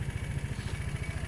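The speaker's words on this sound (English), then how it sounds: "I'm going to let it idle for a bit." An Aprilia Sportcity Cube 300 scooter idles nearby with a low, steady, evenly pulsing putter and no one speaking.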